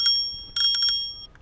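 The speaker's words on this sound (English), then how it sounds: "I have a bell." Bell on a Ninebot MAX electric scooter rung outdoors: a single ding, then a quick burst of three rings, bright and close, fading with a faint final tap.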